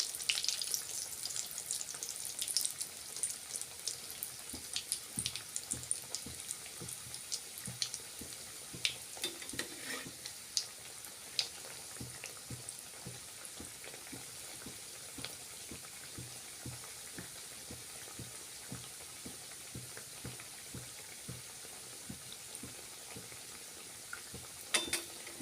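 Dough pieces sizzle and bubble steadily in hot oil in a pan, a dense continuous crackle with fine popping throughout, close and fairly quiet, with no voices.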